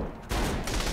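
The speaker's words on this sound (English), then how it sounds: "That shotgun does a lot of damage." A shotgun blast in Saints Row: The Third fires with a loud, broad burst about a third of the way in, followed by a second heavy report and dense combat noise, with no talking over it.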